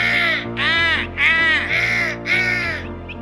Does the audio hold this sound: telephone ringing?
no